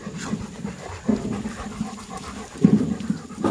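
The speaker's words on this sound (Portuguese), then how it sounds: "Ele é o nosso cachorro mais antigo." An old farm dog pants close by: soft, rhythmic breathing runs throughout, with a few louder puffs near the middle and the end.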